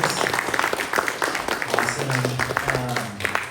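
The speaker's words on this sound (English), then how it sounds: "Let's give these authors a round of applause for coming up and sharing what they did." An audience at an authors' panel applauds, scattered claps spread over a few seconds with some background murmur and a faint voice underneath.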